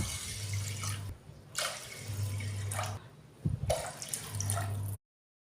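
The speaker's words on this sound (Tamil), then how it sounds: "இப்போ வந்து ரெண்டரை டம்ளர் அளவுக்கு தண்ணி சேர்த்துக்கலாம்" Water pours into parboiled rice and toor dal for a white pongal, in three splashing, running bursts separated by brief pauses, close and fairly steady, with a low hum beneath and no talking.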